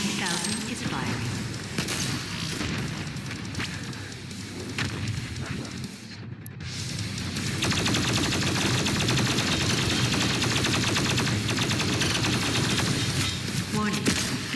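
Heavy continuous gunfire and explosive weapon blasts from the BFG 10,000 in the video game Doom Eternal, loud and dense throughout with a brief dip midway before the barrage swells again.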